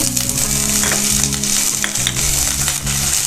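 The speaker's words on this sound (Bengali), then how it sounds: "ক্যাপসিকামটাকে ভেজে নেব" Capsicum frying in white oil in a wok, a steady loud sizzle with scraping and stirring of the pan throughout, no voices.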